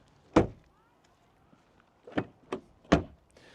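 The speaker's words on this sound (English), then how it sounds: "let's check out the door closing sound" A solid car door thuds shut once up close, and a moment later three more sharp thumps and latch clunks follow.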